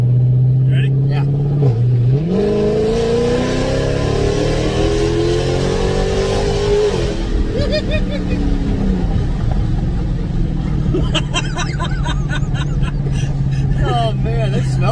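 A Dodge Scat Pack 1320 accelerating hard, its loud engine roar climbing in pitch through the revs, then dropping as it shifts and settles back to a steady drone, with voices faintly under it.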